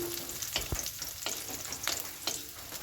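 Garlic cloves fry in hot oil alongside onion with a soft, continuous crackling sizzle. Several brief stirring scrapes punctuate it, close but fairly quiet, with no voices.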